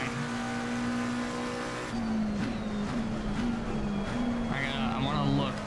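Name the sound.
race car engine in second gear, Assetto Corsa Competizione video game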